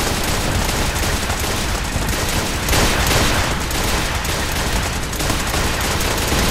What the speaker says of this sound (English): That sounds like the other ones are firing.